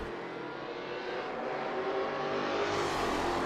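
A Commodore race car engine roars in Assetto Corsa, a steady, loud drone that swells slightly as the car accelerates.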